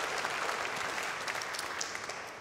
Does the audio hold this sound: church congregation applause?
yes